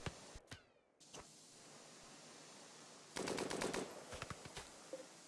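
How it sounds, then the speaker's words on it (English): A manned military-grade turret firing in the Rimworld video game, with a few scattered shots early on and then a rapid burst of machine-gun fire, followed by more spaced single shots over faint background hum. "this is the manned military grade turret, and you can see the fire rate is increased"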